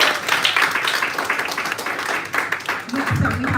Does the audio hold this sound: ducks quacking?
no